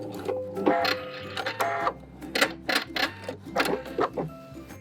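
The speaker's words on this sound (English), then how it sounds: "Make sure you back stitch at the beginning and the end." A sewing machine back stitches through a blazer sleeve lining in short, stop-and-start bursts, its close mechanical chatter pulsing in an uneven rhythm.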